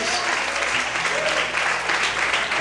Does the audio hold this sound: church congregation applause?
yes